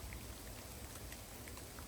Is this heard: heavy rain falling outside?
yes